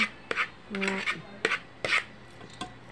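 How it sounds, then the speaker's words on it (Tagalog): Bean sprouts for shrimp fritters are tossed and stirred in a bowl, with scattered clinks and scraping rubs of a utensil against the dish at close range, plus a brief tonal hum. "hahaluin ko muna dito ang ating togi"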